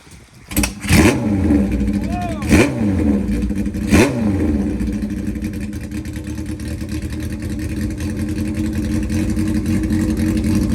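Small carbureted engine, just after brake and carburetor jet work, kicked to life with three sharp revving bursts that rise and fall in quick succession, then settling into a steady running drone, close and loud.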